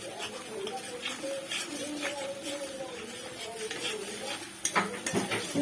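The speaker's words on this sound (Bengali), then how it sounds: "তো এখন আমি এটা দিয়ে নাড়াতে থাকবো।" Fried mourola fish stirred in a cooking pan: repeated scraping and light clinks of a utensil against the metal, with a faint sizzle underneath, close and moderately quiet throughout.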